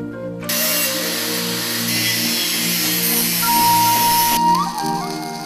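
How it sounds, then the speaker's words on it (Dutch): A steady whine of a power drill runs for several seconds, loud and close, then cuts off and winds down near the end. "Boorgate hierso, boorgate hierso."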